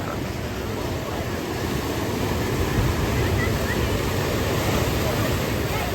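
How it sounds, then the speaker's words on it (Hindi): Sea waves surge continuously onto the shore on the coast near Kanyakumari, producing a broad, loud rushing wash with some wind noise throughout. "ये देखो अब ये लहरें यहाँ तक आ गई।"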